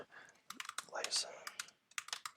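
A name is typed on a computer keyboard in a quick, uneven patter of nearby key clicks, bunched into short bursts with brief pauses between them.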